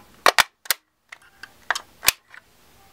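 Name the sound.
magazine being released and pulled out of Vz 2008 rifle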